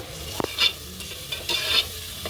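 Tomato paste from three small blended tomatoes frying in a pan over a wood-fire stove for fish curry, with a soft sizzle, stirring scrapes and a couple of utensil knocks, close and moderately quiet.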